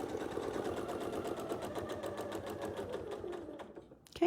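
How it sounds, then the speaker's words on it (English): A sewing machine runs steadily in one continuous close burst, stitching half a circle on a quilt using a Westalee Sashlee template, then stops abruptly. "I'll sew that half of the circle"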